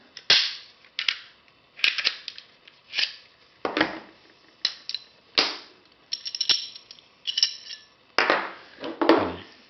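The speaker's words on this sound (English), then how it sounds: "Now I'm going to disassemble the Glock first." A Glock G43 9mm pistol is taken apart by hand, giving a series of sharp metallic clicks and snaps in irregular bursts, close and fairly loud, with no talking.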